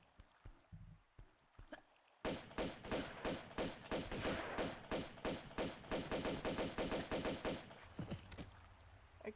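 Rapid bursts of enemy gunfire in the Tomb Raider II Remaster video game, a dense volley of repeated shots rattling for several seconds after a brief quieter stretch, loud and close with no talking.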